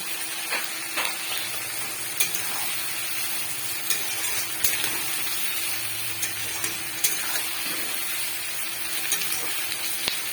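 Onions frying in a pan with salt, a steady dense sizzle with crackling pops and occasional stirring clicks, close and continuous with no talking.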